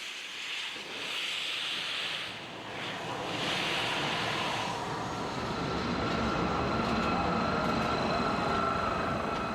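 Southern Railway West Country class steam locomotive Taw Valley pulling away, a loud, steady rushing rumble that swells and holds throughout with no voices.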